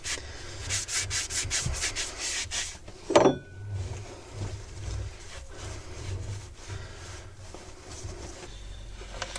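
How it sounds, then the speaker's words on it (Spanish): Rhythmic rubbing of 2000-grit wet sandpaper on a boat's propeller shaft area, quick back-and-forth strokes, close up and fairly soft, with a brief clunk partway through. "Lija al agua 2000."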